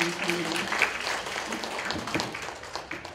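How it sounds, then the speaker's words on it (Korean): A seated audience at a Korean-American community lecture in Los Angeles claps to welcome a speaker to the podium, producing a full, even round of applause with a faint tonal hum beneath it. "큰 박수로 맞이해 주시면 감사합니다"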